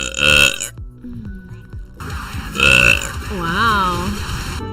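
Loud, close burps from a woman, two long rasping belches with a gap between, then a wavering drawn-out third; other people react with talk around them.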